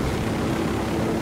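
Helicopter rotor and engine drone from the video game Ghost Recon: Wildlands, a steady, dense broadband roar with low thumping, loud and continuous with no speech.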